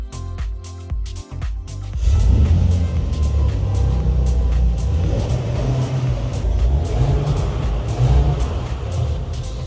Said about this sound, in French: Lorsqu'il démarre dans le showroom, sa mélodie rauque ravit les oreilles des amateurs de voitures que nous sommes.